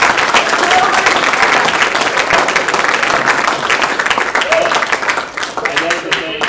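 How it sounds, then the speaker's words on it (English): Applause from a classroom audience, a dense, steady wash of many hands clapping close by, sustained for several seconds and thinning slightly near the end. "So I just want to give a quick round of applause to them"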